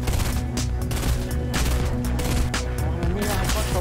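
Rapid bursts of gunfire from a Fortnite match sound in a loud, dense clatter of repeated shots across the whole few seconds.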